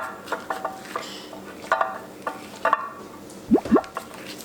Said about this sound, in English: We're going to give this a really good mix and set it aside as well.